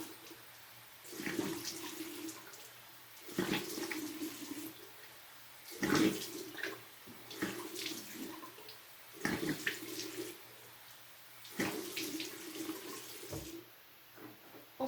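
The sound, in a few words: rinsing face with running water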